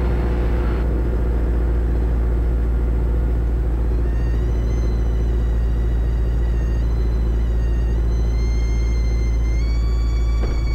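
A light aircraft engine droning loudly and steadily from inside the cabin, its pitch shifting slightly as the throttle is eased back during the landing flare, a constant heavy rumble with no talking.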